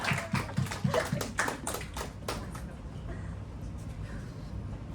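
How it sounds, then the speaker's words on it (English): A short burst of clapping from a small classroom group during a marketing lecture, several claps loud at first, then fading into scattered taps and quiet room noise. "Go get a round of applause for that"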